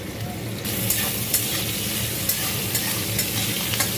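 Chopped onion and garlic fry in hot oil in a pan that was just used to fry fish heads. A steady sizzle runs throughout, punctuated by light, irregular clicks of stirring.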